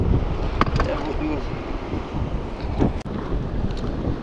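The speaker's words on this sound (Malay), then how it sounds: "angin semakin kuat, alun pun semakin tinggi dah ni" Strong wind buffets a fishing boat out at sea while trolling, a steady roaring rush with rising waves and water noise, loud and continuous throughout.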